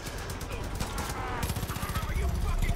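Rapid automatic gunfire in Far Cry 5, fired from a moving vehicle: a steady stream of close, quick shots that starts softly and becomes a loud, regular rattle over the engine and road noise.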